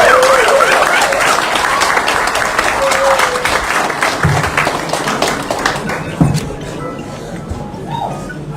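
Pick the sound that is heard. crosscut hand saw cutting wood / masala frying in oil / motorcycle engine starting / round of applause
round of applause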